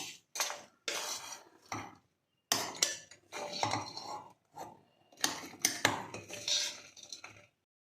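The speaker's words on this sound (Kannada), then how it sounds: "ನೋಡಿ ಈಗ ತಣ್ಣಗಾಗಿದೆ ಇದೆಲ್ಲ ಒಂದು ಮಿಕ್ಸಿ ಜಾರ್ಗೆ ಹಾಕ್ಕೊಳ್ಳೋಣ" Cooked tomato mixture being spooned into a mixer jar, heard as a run of separate metallic scrapes and clinks of a spoon on the jar, close and intermittent with short silent gaps, no speech.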